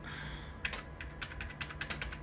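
Rapid clicks of typing on a computer keyboard during a Windows 3.11 setup, starting after a brief quiet moment and continuing in uneven bursts, close and fairly crisp.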